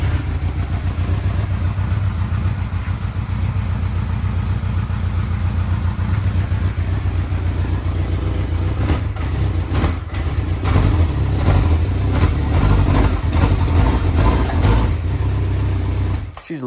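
A 1985 Honda CB650 Nighthawk cafe racer motorcycle idles close by, a loud steady rumbling throb that sounds slightly choked on old oil, with brief throttle blips and rattles near the end before it cuts off.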